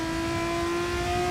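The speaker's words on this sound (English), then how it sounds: "Listen to the V6 roar as well. That is a lovely sound of engine, isn't it?" Steady engine roar of a V6 race car at Hungaroring in a sim racing game, a sustained loud drone with strong tonal harmonics, unchanging pitch throughout with no voices.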